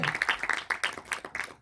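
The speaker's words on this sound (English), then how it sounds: "let's have a round of applause for Bassel" A small audience claps for director Bassel Ghandour, a brief scattering of distinct, fairly close hand claps that comes in uneven bursts rather than a full roar.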